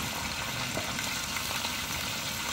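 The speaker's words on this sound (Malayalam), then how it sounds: "അപ്പൊ ആ എണ്ണയിൽ തന്നെ നമുക്ക് അടുത്ത ഒരെണ്ണ ഇട്ട് കൊടുക്കാം. നമ്മള് പച്ചമുളക് ഇട്ട് കൊടുക്കണം." Green chillies frying in hot oil for a fish curry, giving a continuous, even sizzle close to the pan, steady and moderately quiet, with no voices over it.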